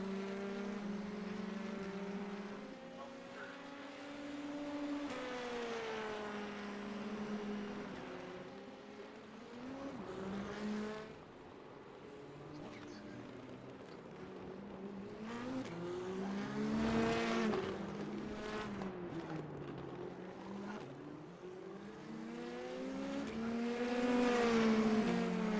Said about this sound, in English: 2 cars getting awful close to us again